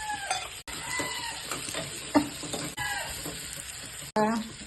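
Shallots frying in coconut oil for a Kerala-style mackerel curry seasoning: a steady close sizzle with stirring scrapes, while hens and a rooster cluck in the background.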